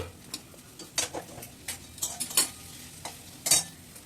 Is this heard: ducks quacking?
no